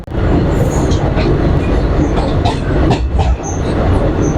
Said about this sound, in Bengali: এখন আমরা অতিক্রম করছি পশ্চিমবঙ্গের বিখ্যাত ফারাক্কা ব্রিজ